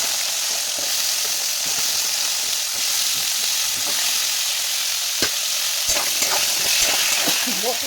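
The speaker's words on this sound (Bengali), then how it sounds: "ভালো করে তেলে কষিয়ে নেই" Carrots and potatoes fry in hot oil in a slightly blackened wok, giving a loud, steady, close sizzle with occasional scraping stir clicks toward the end.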